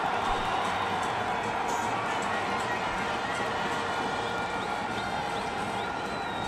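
Large cricket stadium crowd roaring and cheering after a boundary in an India versus Sri Lanka match, a continuous dense wash of noise held at steady loudness throughout.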